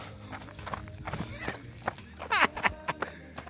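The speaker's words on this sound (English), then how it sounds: "back to brisk jog while the donkey follows." Donkey hooves follow along the ground in a loose, uneven patter of soft thuds, close behind a walker. Scattered brighter clops stand out near the middle, and a person talks briefly.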